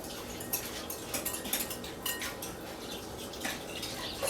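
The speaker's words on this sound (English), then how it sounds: "Use your whisk, mix it around, make sure it's all well incorporated." A whisk stirs yeast into hot water in a bowl for homemade pizza dough, making quick, irregular metallic clinks and scrapes against the bowl, close and fairly soft, with no talking.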